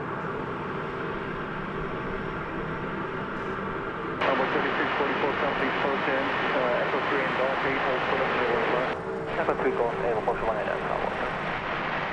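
UPS aircraft at DFW airport after dark: a steady distant engine rumble throughout, with voices talking over it and brief radio chatter, growing slightly louder midway.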